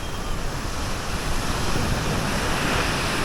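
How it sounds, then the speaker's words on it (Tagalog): Steady roar of sea waves washing onto a beach at Botolan, Zambales, Philippines, with continuous wind noise buffeting the microphone throughout. "So, ito yung dagat, oh."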